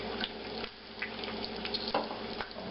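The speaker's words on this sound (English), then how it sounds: "Add some water here." Quiet splashing and trickling of water poured into a bowl of flour for biscuit dough, with soft scraping and stirring sounds close by.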